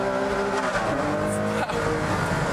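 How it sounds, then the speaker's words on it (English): A loud, steady high-revving Ferrari Enzo V12 engine roars throughout on a race track, its pitch shifting briefly as it changes gear, with no talk over it. "you get that lovely V12 engine behind you"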